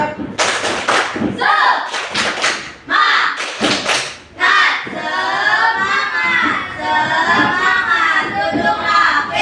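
A classroom of students performs a spirit clap, loud synchronized bursts of hand claps in a quick rhythm, with thumps and shouts from the group between patterns.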